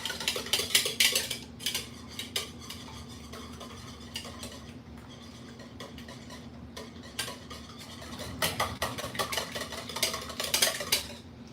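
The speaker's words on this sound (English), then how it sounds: "Yeah, I gotta just go ham with the whisk." Whisk beating eggs in a bowl, rapid rhythmic clinking and scraping in bursts, loudest at the start and end with a quieter stretch in between, close and alone.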